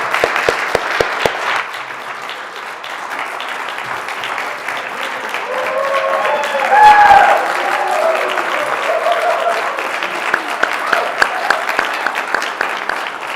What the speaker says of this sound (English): So another round of applause would be great for them.